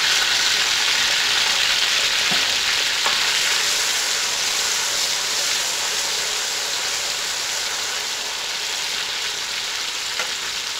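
Whole spices hit hot oil in a pan of frying mash dal and sizzle loudly and steadily, a dense crackling hiss that eases off slightly over time, with a few faint clinks.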